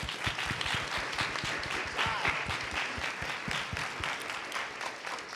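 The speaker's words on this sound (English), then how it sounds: "a round of applause for the panel." An audience claps together in sustained, dense applause for a conference panel, steady and fairly loud for several seconds.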